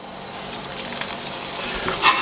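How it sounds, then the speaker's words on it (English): Steady crackling sizzle of Neapolitan strufoli dough frying in hot oil, close and continuous, with a brief louder pop near the end. "Now that this is frying really well"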